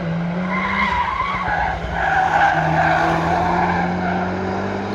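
Car tires skid and squeal through a drift, a sustained screech under steady engine drone for about five seconds, loud and close.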